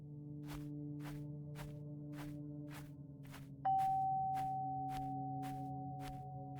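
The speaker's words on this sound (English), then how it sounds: "The sound sounded just like my doorbell." A doorbell-like chime rings once, bright and sustained, in the dinosaur shooter game RIP Current, ringing out slowly over a rhythmic series of soft thumping footsteps and a steady low drone.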